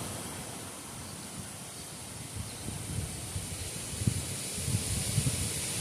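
Wind blows through trees outdoors, a steady broad rushing hiss of leaves that swells into stronger gusts toward the end, alone with no voices.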